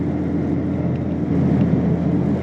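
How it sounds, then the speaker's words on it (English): Volkswagen Mk4 Jetta engine accelerating while driving with the windows up: a dense, steady, fairly loud rumble from inside the cabin, heard alone without talk. "I love the sound of this car"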